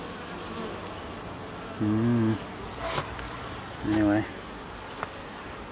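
Yellow jacket wasp buzzing near a beehive top feeder, with two short, loud, close buzzing passes and a brief spoken word in between.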